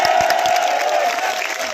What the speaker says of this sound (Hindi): मैं कहूँगा चांदपुर के लिए भी जोरदार तालियां होनी चाहिए।